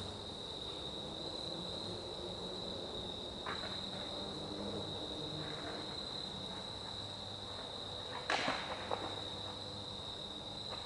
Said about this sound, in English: I don't hear anything except a couple crickets